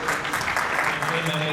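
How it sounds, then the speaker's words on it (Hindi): Applause fills a company's seventh-anniversary celebration, a steady wash of clapping from a gathered crowd that runs throughout, with a few voices talking over it. "तालियां होनी चाहिए"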